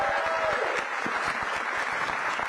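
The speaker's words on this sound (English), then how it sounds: "Give her a big round of applause." Brief, steady applause from an audience at a city small business expo, a moderate room full of clapping with no voices over it.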